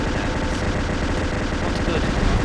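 Minigun fire in Halo CE, a loud, dense, unbroken rattle of rapid shots. A player talks over it.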